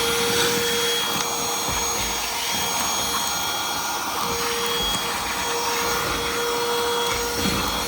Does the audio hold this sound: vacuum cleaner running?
yes